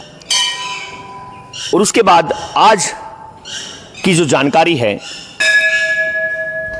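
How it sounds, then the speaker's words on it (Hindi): A bell rings at an old Shiva temple in Bhadar village, its ringing tones sounding clearly at the start and again near the end, while someone speaks between the strikes. "घंटी बज रही है शिव मंदिर की"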